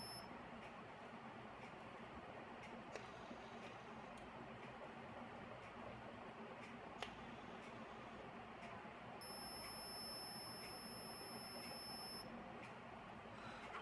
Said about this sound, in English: now the buzzer and the LED light will be turned on more longer